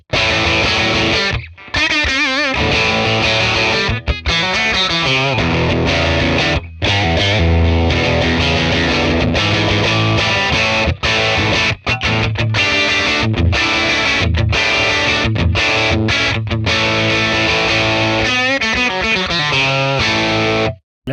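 Telecaster electric guitar played through a 1966 Fender Blackface Bassman amp, a loud, distorted riff with sustained chords and quick single-note runs, broken by a few brief stops, with no talking.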